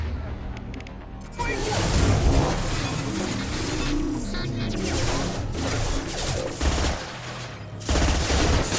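Gunfire in a Mass Effect 2 firefight, dense bursts of shots rolling almost continuously under game music and clipped squad voices, loud and busy from the first seconds on.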